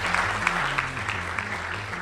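Steady applause from a Press Club audience welcoming FCC chairman Tom Wheeler, a dense even clapping with low stepping musical tones running underneath.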